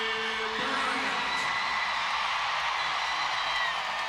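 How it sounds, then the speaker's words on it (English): Loud, sustained crowd ovation at a college gymnastics meet, Georgia at LSU, with broad roaring cheers and scattered whoops filling the arena steadily throughout. "Listen to that ovation."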